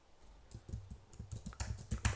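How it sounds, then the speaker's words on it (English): Keys clatter on a computer keyboard in a quick, irregular burst of soft clicks, close and fairly quiet, growing a little denser toward the end. "Okay, I typed this one."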